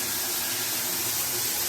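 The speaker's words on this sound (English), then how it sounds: "I'm going to see if I can show you how hard this water pressure is." High-pressure shower running in a cruise ship cabin aboard Wonder of the Seas, a loud, dense, steady hiss of spraying water close by, with no talking.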